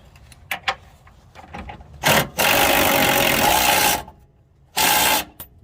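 An impact wrench tightens the lower control arm nut on a 2008–2017 Mitsubishi Lancer or Outlander. After a few light clicks and taps, it fires in one loud, close two-second burst of rattling hammering, then a shorter half-second burst.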